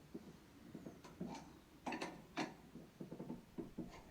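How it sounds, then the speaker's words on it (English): A shutoff valve is tightened onto a compression fitting with a wrench, giving quiet metallic clicks and ratcheting scrapes in short irregular bursts, close and faint. "then I can put my shutoff valve on and tighten it down"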